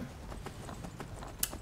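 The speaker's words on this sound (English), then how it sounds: "You can ride your horse all the way into Whiterun and just keep going." Horse hooves clip-clopping at a steady walking rhythm in the Skyrim video game, a moderate series of soft thuds lasting under two seconds with a single sharp click near the end, no speech.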